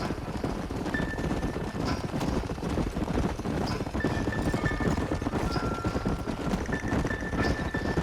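Horses' hooves clip-clopping steadily during a ride in the western video game Red Dead Redemption, a dense continuous trotting rhythm under a game soundtrack with faint tonal notes.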